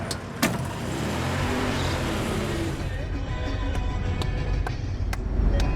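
An Iranian national car, a Persian model whose design has barely changed in 45 years, drives along a desert route with a steady, close engine and road rumble, a few sharp clicks and knocks breaking through partway.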